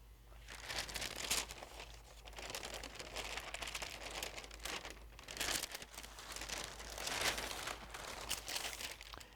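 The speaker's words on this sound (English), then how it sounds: "next we'll take off our cover paper." Paper is peeled off a hot dye-sublimation ceramic tile. It makes soft, continuous crinkling and tearing in several louder bursts, close and quiet, with no talking.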